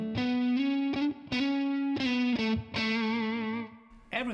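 A Stratocaster electric guitar played through a Tonex ONE pedal on its Jackson Amp Works amp model, ringing out a short phrase of sustained, harmonically rich notes and chords that cut off and restart a few times.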